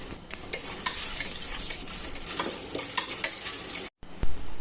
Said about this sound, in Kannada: ಇವಾಗ ಈ ಕಡಲೆಬೇಳೆ ಚೆನ್ನಾಗಿ ಫ್ರೈ ಆಗಿದೆ